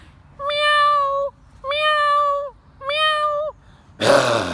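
A human voice imitates a cat, giving three drawn-out, evenly spaced meows, loud and close, followed by a short burst of noise at the end.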